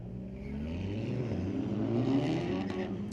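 A Porsche and a Honda launching down a drag strip at a Friday night street-legal drag race, engines revving hard and accelerating away, a steady, moderately loud roar with no voices.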